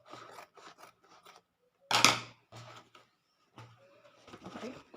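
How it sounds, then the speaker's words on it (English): Scissors snip through stiff excess fabric trimmed from a structured sleeve, a series of close, crisp cuts in irregular bursts with one sharper, louder snip near the middle. "So I'm going to cut out the excess here also."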